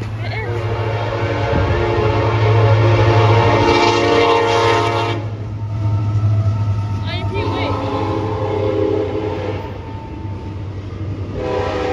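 A freight train rumbles past close by with a loud sustained horn blast and steady rolling noise, people talking faintly underneath.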